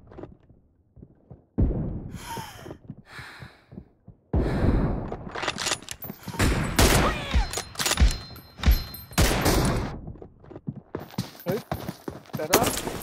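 Gunfire in a zombie-event video game comes as dense, loud bursts of sharp shots, clustered heavily in the second half, with a voice talking in the early stretch.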